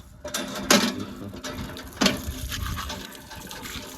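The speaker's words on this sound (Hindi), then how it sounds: "बहुत गर्म पानी आ गया, बहुत गर्म पानी है गाइस।" Hot water gushing from a tap into a basin, a steady close splashing flow with a couple of sharper clanks of metal fittings, no voices.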